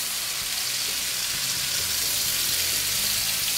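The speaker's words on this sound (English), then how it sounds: "all we're doing on that bottom side is just searing that seam together, the joint where the two pieces of bacon overlap" Overlapping bacon strips searing in a hot pan, their seam pressed against the surface, giving a steady, loud hiss of frying fat with no talk.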